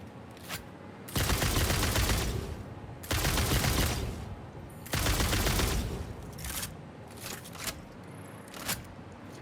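Gunfire from the video game Satisfactory, aimed at a Mercer sphere: three loud sustained bursts of rapid shots, each about a second long, with brief quieter gaps and some faint clicks and clatter between them.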